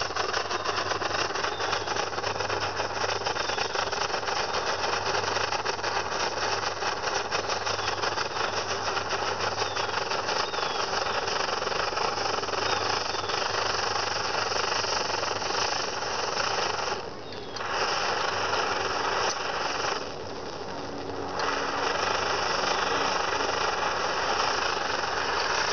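A brass SVEA 123R camping stove burns at full flame nearby, giving a loud, steady roaring hiss that holds throughout with two brief dips in intensity.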